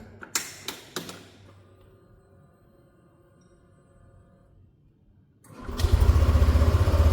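A Yamaha NMAX Neo S scooter is switched on with a few sharp clicks and beeps, then after a quiet pause its engine starts up loudly and settles into a steady idle nearby.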